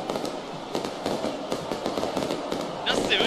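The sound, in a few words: fireworks and flares set off by football fans in stadium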